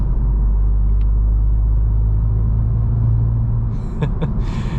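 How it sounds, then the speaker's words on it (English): Steady low road rumble of tires inside a moving 2023 VW Golf GTI, constant and droning, with a few faint clicks near the end. "there's a bit of tire noise coming"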